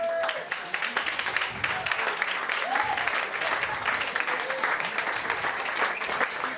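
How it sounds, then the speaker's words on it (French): An audience at a comedy club in La Réunion claps steadily for a young woman volunteer, a dense, even wash of applause lasting throughout with faint voices mixed in. "Applaudissements pour elle"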